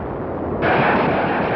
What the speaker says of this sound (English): United Nations Armada began their point-blank preliminary bombardment.